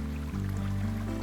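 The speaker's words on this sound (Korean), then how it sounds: "청아하고 맑은 물소리가 귓가를 울립니다." Water tumbling down Sambuyeon waterfall, which drops from a high cliff in three stages into three cauldron-shaped pools, gives a steady, close, continuous rushing with no pause or voice.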